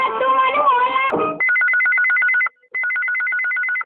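Electronic telephone ringtone on an All India Radio Raipur phone-in show of Chhattisgarhi folk songs, a steady repeating warble after a burst of music, with one brief pause between rings.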